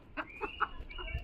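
Chickens let outside in the evening cluck quietly close by, a handful of short soft clucks with a faint thin call behind them, no talk.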